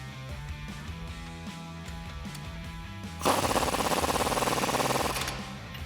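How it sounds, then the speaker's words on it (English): Ratcheting and bolt tightening with a 21mm wrench and socket at the base of a shock on a 2009-2018 RAM 1500 getting a lift kit, with a steady mechanical rattle that turns into a loud, dense burst of clattering near the end. "With our 21mm wrench and socket, we're going to tighten down the bolt at the base of the shock."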